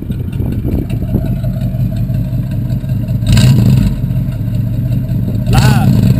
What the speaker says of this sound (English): put it in neutral and rev it up a little bit